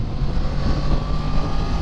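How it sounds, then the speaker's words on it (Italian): A Yamaha MT-10 motorcycle engine pulls hard on a twisty mixed road around 5,000–6,000 rpm, a steady, loud, dense roar blended with wind rush and no talking. "Le ottime caratteristiche di questo motore emergono nell'utilizzo nel misto, come stiamo facendo noi adesso. Il motore riprende bene"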